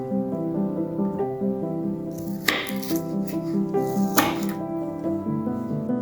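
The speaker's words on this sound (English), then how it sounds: "Now, peel an onion. Separate the layers. Cut them into cubes as well." Two sharp knife strikes on a cutting board as an onion is cubed, spaced about two seconds apart, over steady background music.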